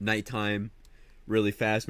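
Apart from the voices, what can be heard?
No everyday noises stand out.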